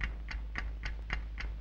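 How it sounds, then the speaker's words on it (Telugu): A ticking time bomb in a Telugu film scene: six evenly spaced, crisp ticks at about one every quarter second, close and clear over a low steady hum, with no talking. "ఏంటి టిక్ టిక్ శబ్దం వస్తుంది"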